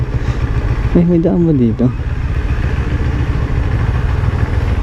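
A Honda CB400 motorcycle engine runs steadily on a test ride, a loud close low throb beneath a brief spoken phrase.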